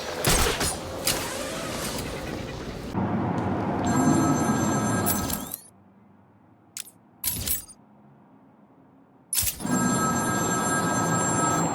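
A telephone rings in the video game Batman Arkham City, with repeated bell trills over dense game noise, then separate bursts of ringing after a quiet stretch.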